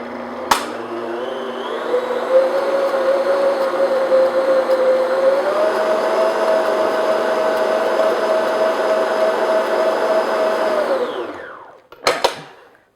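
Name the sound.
electric mixer beating food coloring into marshmallow mixture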